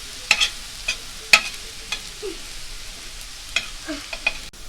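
Fried potatoes being pushed to the sides of a pan with a utensil, heard as a faint background sizzle broken by several sharp scraping and clinking strokes spaced irregularly.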